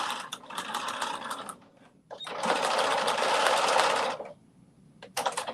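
Sewing machine stitching garment pieces together, front to back, for a New Look 6741 pattern: two loud close bursts of rapid mechanical stitching separated by brief pauses, with a short start near the end.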